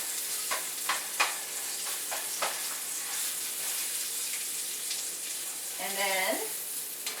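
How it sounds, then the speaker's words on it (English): Onions sizzle in olive oil while they brown in a pan, a steady bright hiss with a few soft stirring clicks; a voice speaks briefly near the end. "I'm just gonna brown or caramelize the onions a little"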